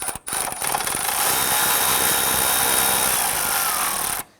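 A power tool, likely an impact driver, tightens the battery hold-down bracket on a 2006-2012 Toyota RAV4 3.5L V6: one steady, loud whirring burst of about four seconds with no talk, starting and stopping abruptly.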